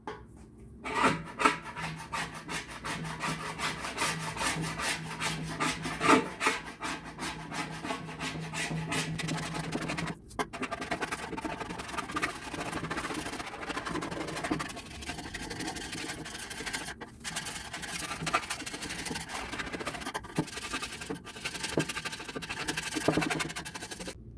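Stripped paint is scraped off a motorcycle fuel tank after treatment with Bartoline Paint Predator, making repeated close, rasping strokes in a steady back-and-forth rhythm with brief pauses.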